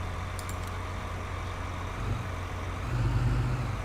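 A vehicle engine running in Farming Simulator 19, a steady low rumble that swells slightly partway through and then holds. It is close and continuous, with no talk.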